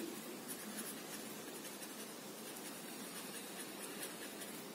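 Marker or chalk writing on a classroom board, a soft continuous scratchy rubbing that runs steadily and faintly throughout with no talking.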